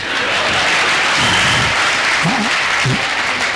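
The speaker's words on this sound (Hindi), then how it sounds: "ताली तो इस बात पर बजा देना" An audience at a Hindi stand-up comedy show in Ajmer breaks into loud, dense applause that fills the whole stretch, with a few faint voices mixed in.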